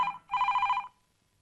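An old-style telephone bell rings in two bursts, a short trill followed by a longer one, then falls silent, moderately loud and alone.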